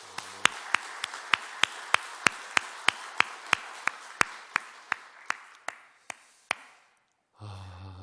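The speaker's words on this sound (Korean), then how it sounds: "특별히 오늘 맥주 감사주일로 인도하신 하나님 앞에 영광의 박수 올려드리겠습니다." A church congregation at a Korean Baptist Sunday service gives a round of applause as a steady series of sharp, evenly spaced claps that slow and fade over several seconds, then stop before a short sound at the end.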